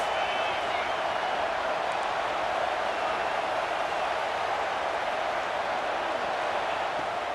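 Stadium crowd noise in the EA Sports College Football 26 video game, a constant dense roar held at an even level from start to finish.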